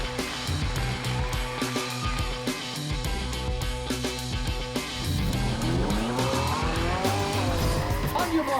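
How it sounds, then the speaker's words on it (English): A small 1/18-scale AWS DeepRacer autonomous race car whines along a track, with tires squealing and skidding. Loud music plays over it and grows fuller partway through, and no one speaks. "AWS DeepRacer, which is a fully autonomous 1/18 scale race car driven by reinforcement learning"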